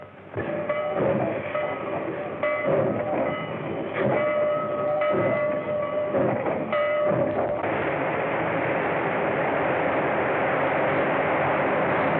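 Early-1930s passenger train rumbling along rails, a loud, continuous roar with rhythmic clattering pulses that later smooths into a steady wash of noise, with no voices over it.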